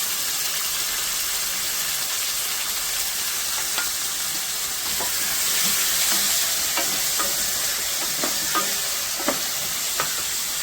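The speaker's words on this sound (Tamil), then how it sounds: "பாறை மீன் தலை குழம்புக்கு வெந்தயம் போட்டு பொரிஞ்சோடனே தக்காளியை போட்டு வதக்கி வச்சு அப்படியே வதங்கட்டும்." Tomatoes and fenugreek seeds sauté in sesame oil for a trevally fish head curry, with a continuous loud sizzle and repeated sharp clicks of a spoon stirring the pan.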